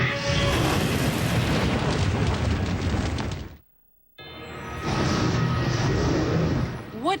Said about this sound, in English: What is all that unearthly commotion? A dragon attacking the castle.